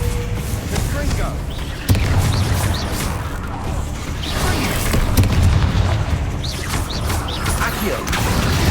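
Booming Confringo explosion spells go off in rapid succession in the video game Hogwarts Legacy, loud blasts layered over dense combat noise and music, with a voice speaking throughout.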